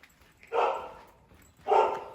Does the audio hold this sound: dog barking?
yes